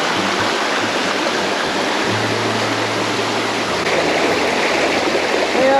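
Creek water at a bush campsite flows steadily in a broad, even rush close by, with a low hum coming and going underneath and no talk over it.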